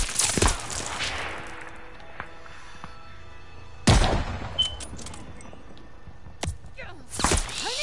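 Call of Duty: Vanguard gunfire: a few loud, isolated rifle shots with booming reports, separated by quieter gaps, with voices in between.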